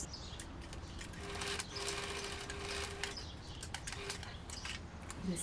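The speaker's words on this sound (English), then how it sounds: "So you could flatten and sew here, top stitch maybe" A sewing machine topstitching front pleats on a pair of pants runs at a steady, close whir for several seconds, with a faint high tone partway through.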